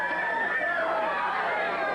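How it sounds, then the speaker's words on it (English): A 1970s Northern California pro wrestling arena crowd roars steadily throughout, a dense wash of cheering and shouting with no single voice standing out. "The crowd's roaring."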